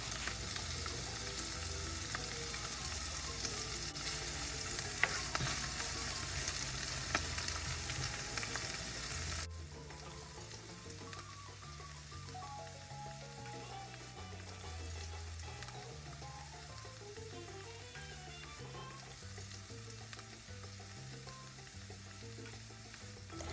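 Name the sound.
sautéing vegetables in olive oil in a pan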